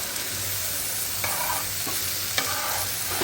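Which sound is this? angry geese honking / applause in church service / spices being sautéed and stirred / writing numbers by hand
spices being sautéed and stirred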